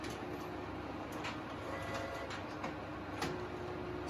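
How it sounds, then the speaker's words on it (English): An office printer in a parish office whirs into action as it prints, a continuous mechanical hum broken by periodic clicks and soft clacks. "The machine's whirring into action."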